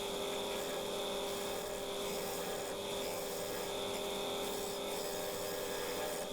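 Chisel being sharpened during a bog oak wood turning session, a steady faint rasping hum that continues without a break in the background.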